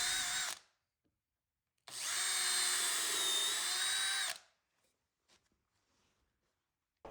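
A power drill pre-drills holes in garage shelf boards, heard as a short whine followed by a longer burst of about two and a half seconds, close and loud, with quiet gaps and faint ticks between the runs.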